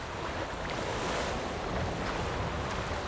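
Ocean waves in The Witcher 3 video game wash in as a continuous broad surf roar with a wind-like hiss, steady and moderately loud, with no voices.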